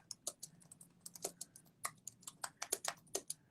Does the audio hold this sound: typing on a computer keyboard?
yes